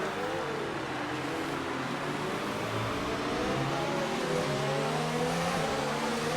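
Race cars in a sim racing game roar through a corner, engines revving and shifting pitch as they brake and accelerate close together, with a commentator talking over them.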